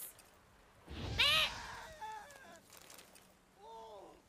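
Geese honk in The Witcher 3: a loud, noisy burst comes first, then several short, nasal, honking calls in two separate groups at moderate distance.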